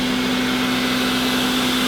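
Roborock E20 robot vacuum running at maximum suction, a steady close whirring motor drone with a sustained tonal hum throughout.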